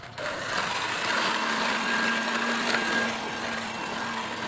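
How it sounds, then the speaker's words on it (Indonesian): Electric mixer beating eight eggs with sugar for bread, a continuous steady whirring drone throughout, close and fairly loud. "Ini kita mixer sampai gula larut."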